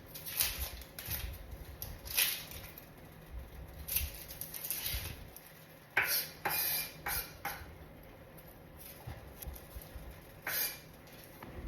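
Knife chopping onions and green chilies on a board for vada, sharp irregular taps and clicks in short bursts, close up with quiet kitchen background and no talking.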